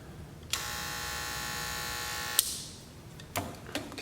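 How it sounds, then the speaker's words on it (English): An Oster T-Finisher hair clipper switches on and hums steadily for about two seconds with a smooth, even buzz, then cuts off with a click, followed by a few faint handling knocks. "The Oster T finisher, as you can hear, it sound very smooth, quiet"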